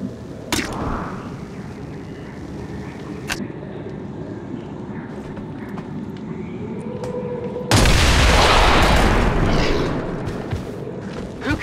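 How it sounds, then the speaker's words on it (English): A claymore detonated in XCOM 2, a sudden loud broadband blast that erupts midway and rumbles on for several seconds, following quieter game ambience with a few faint clicks and thuds. "So, claymore out, and then we'll explode it immediately."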